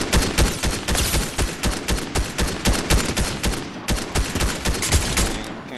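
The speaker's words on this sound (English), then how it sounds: "Somebody else shooting at us." Rapid bursts of gunfire from a Fortnite match, many sharp cracks in quick succession with a steady, dense rhythm throughout, loud and fairly close, with no talking over it.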